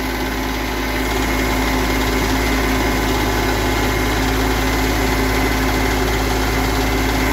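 A Kioti CS2510 compact tractor idles after a cold start on its first run in a couple of months, a steady, close, unbroken diesel drone with constant vibration and no voices.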